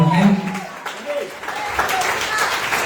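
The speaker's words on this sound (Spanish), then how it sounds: "Den un aplauso al Señor si está amable." A church congregation applauding during an evening service, a loud burst of clapping that thins and settles, with voices mixed in.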